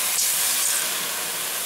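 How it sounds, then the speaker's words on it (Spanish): Shrimp flambéed with pisco in a pan give off a loud, continuous sizzling hiss, close and steady throughout. "Vamos a echar un toque de pisco."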